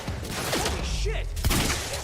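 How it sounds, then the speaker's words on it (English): Gunfire bursts from the video game Quantum Break, including shotgun blasts, mixed with game effects and a thud near the middle, fairly loud throughout. "Does he have a shotgun? He does."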